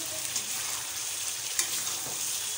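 Meat sizzling and frying in oil during kosha cooking, a steady broadband crackle with small pops and occasional stirring, close and alone with no talking.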